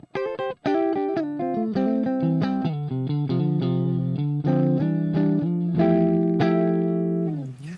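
Electric guitar played through a NUX Trident pedal on its normal input with a cleaner, less saturated tone, ringing out a continuous run of clear sustained notes and chords, close and alone with no talking.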